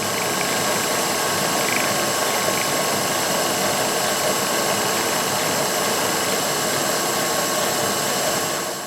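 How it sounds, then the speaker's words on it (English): A Wilton Baby Bullet drill cutting a 90-degree countersink and chamfer gives a loud, steady, unbroken whirring grind that holds an even level for nearly nine seconds, with no voices over it. "So this is a simple way of cutting chamfers and countersinks."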